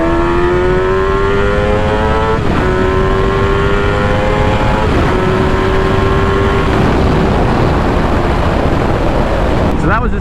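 Sport motorcycle engine, a 2005 GSXR 750 or 2008 CBR600RR, accelerating hard in second gear, a loud continuous wail climbing in pitch with two quick gear-change dips before fading at the end.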